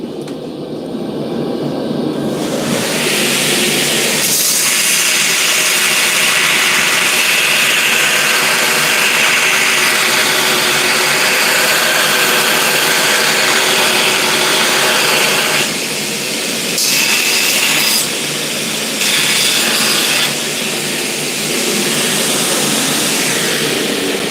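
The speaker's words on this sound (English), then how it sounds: "I have a worn out zirconia 40 grit zirconia belt that I'm using right now for, basically I'm using it as a bench grinder stone" A belt grinder fitted with a worn zirconia 40-grit belt grinds metal in a blacksmith's shop. A loud, continuous, close abrasive roar runs for the whole stretch, easing briefly a few times partway through.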